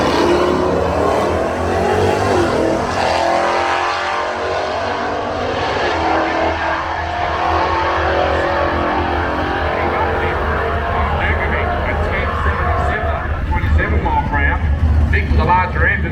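Chevrolet drag racers, one a red machine with a 572 big block, accelerating down an off-street drag strip, a continuous loud engine roar throughout with a commentator talking over it.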